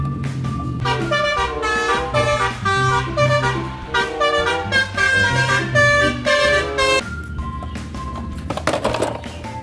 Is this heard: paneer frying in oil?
no